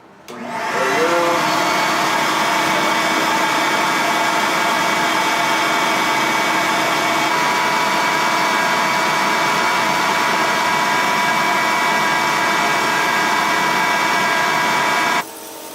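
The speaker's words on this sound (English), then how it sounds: "I'll turn on my shop vac." A shop vac starts up and runs steadily and loudly, drawing air through freshly roasted Guatemalan coffee beans in a Behmor 1600+ roaster to cool them, a constant whine with no talk.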